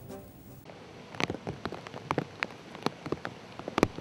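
Rain falling on a public square in Budapest, with scattered sharp drops and splatters ticking irregularly over a soft steady hiss, fairly faint and close.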